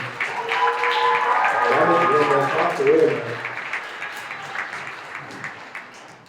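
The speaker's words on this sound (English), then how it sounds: "Give them a little bit of round of applause for that very personal presentation." Audience at a cultural expressions showcase claps after a personal presentation, applause swelling early with voices talking over it, then thinning into scattered claps that fade out.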